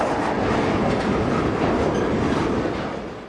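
A freight train made up of locomotives, boxcars and tank cars rolls past close by, a dense continuous rumble and clatter of wheels on rail that eases slightly at the end.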